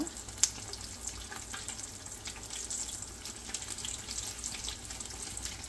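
Malabar spinach fritters in gram flour batter sizzle and crackle steadily in hot oil, a continuous close frying hiss with small pops and no talk.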